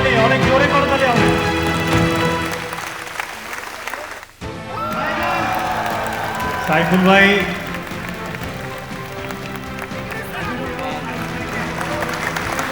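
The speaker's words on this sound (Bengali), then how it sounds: "সাইফুল ভাইয়ের জন্য করতালি, অনেক জোরে করতালি হবে।" An audience at a large entrepreneurs' business summit claps in a sustained burst of applause for Saiful, with an amplified host's voice talking over the clapping throughout.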